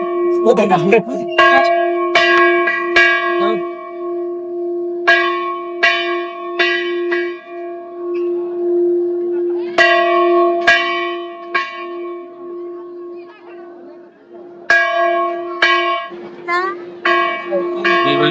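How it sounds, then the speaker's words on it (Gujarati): A temple bell at Galteshwar Mahadev struck repeatedly and irregularly, each clang ringing out with long overtones, loud and close, with crowd noise and voices faintly in the background. "બધાને આ ઘંટ વગાડવાનું કેટલું મન થાય છે"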